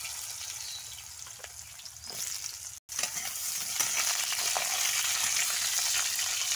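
Loud continuous sizzling and crackling of potatoes frying in hot oil, briefly interrupted by a short gap, then hissing more intensely.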